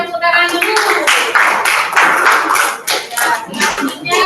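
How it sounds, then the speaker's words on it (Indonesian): A group of people in a classroom or presentation setting claps together in a burst of applause that stays steady and close for a few seconds. "Kita tepuk tangan dulu."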